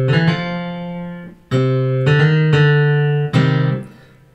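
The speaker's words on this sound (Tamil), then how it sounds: "அதில் வர்ற கிட்டார் சவுண்ட்," Electronic keyboard playing with a guitar tone: four or five plucked notes and chords that each ring and decay, loud and clear with no one talking.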